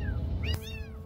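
A cat meows a couple of times close by, short rising and falling calls over a steady low background hum, with no talking, in a rural setting among a Dumagat tribal community in the Philippines.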